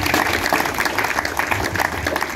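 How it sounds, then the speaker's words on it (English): Crowd applause at a church gathering: a dense, steady wash of clapping that fills the whole moment at a loud, even level. "Clap for Jesus Christ"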